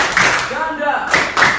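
Schoolchildren clap in short bursts during a classroom clapping game, and a voice is heard between the claps.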